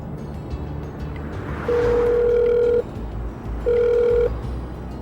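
Telephone line heard through a handset: a quick run of dialed digits, then two long ringback tones with a gap between them, fairly loud over a low background hum.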